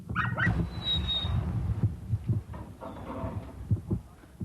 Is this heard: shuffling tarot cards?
no